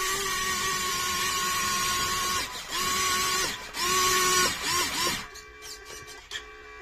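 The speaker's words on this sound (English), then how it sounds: "That motor is struggling." Small electric motor of an RC mud truck whines and strains with little power, a steady high mechanical hum that cuts out and resumes in short bursts before falling quiet.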